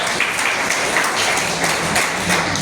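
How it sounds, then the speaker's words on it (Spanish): Congregation applauding at a Spanish-language church service, a dense, steady wash of clapping that fills the space without letup. "¿Cuánto le da un aplauso a Jesucristo?"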